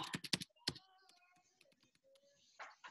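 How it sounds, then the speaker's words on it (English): Brisk keystrokes on a computer keyboard as a security question is entered, a quick cluster of sharp clicks followed by scattered lighter taps, close and fairly quiet, with no speech over it. "She's typing in her security question."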